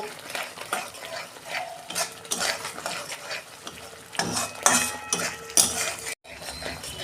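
Spice masala with Kashmiri chilli powder frying in oil in a pan while a spoon stirs it, steady sizzle under repeated scraping and occasional metal clinks, close up and with no voice.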